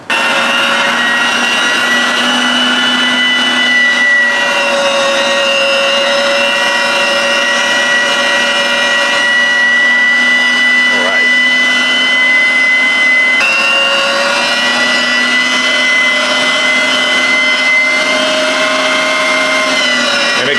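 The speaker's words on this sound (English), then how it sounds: "This is why you want them this size, so they can go down into that grinder." An electric meat grinder runs continuously, grinding cut-up chuck roast for burgers, a loud, steady motor whine and hum that holds throughout with slight shifts in pitch.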